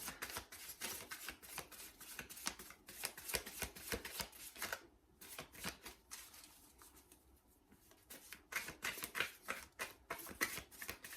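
Tarot cards shuffled by hand in dense, irregular riffling bursts, close and fairly quiet, with brief pauses where the deck is handled before shuffling resumes, no talking.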